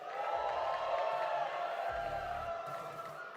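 Live crowd at the Red Bull Kumite 2023 fighting game tournament, a steady distant roar of cheering and whoops sustained throughout, fairly faint under a low hum.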